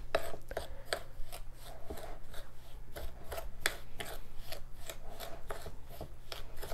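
Saigon cinnamon and granulated sugar are stirred together in a bowl, a close, continuous gritty scraping and rubbing with rhythmic strokes.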